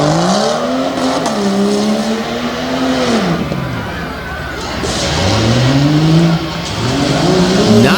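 At a Midnight Madness 4x4 drag race, a Jeep Cherokee launches hard off the green. Its engine revs loudly and climbs in pitch, breaks off, then surges again, close and powerful, with a voice talking over it.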